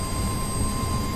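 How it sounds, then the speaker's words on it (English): A helicopter in the DCS World flight simulator spins up with a steady turbine whine and low engine rumble, a continuous mechanical drone with a few fixed tonal lines and no speech. "You can hear Blue's helicopter starting up there."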